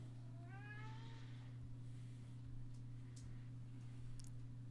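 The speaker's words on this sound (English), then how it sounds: "Everyone can hear that cat." A cat meows in a few clear rising cries near the start, heard over a steady low electrical hum in an indoor room with faint clicks later.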